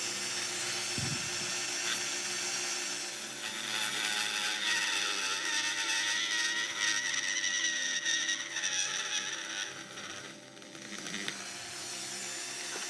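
A small rotary tool grinds through a lock pin at its edge, a steady high-pitched whine held continuously at close range with a brief dip in pitch and level near the end, no voices.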